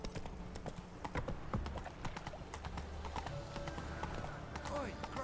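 Hooves of the horse Roach clip-clop at a steady quick rhythm in The Witcher 3, close and distinct, with game sounds and a voice in the background.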